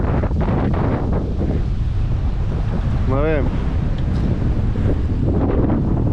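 Strong Meltemi wind of about 30 knots, with waves, buffets a sailboat at anchor in the Aegean Sea. The steady, loud roar and microphone rumble run throughout, and a voice speaks briefly partway through.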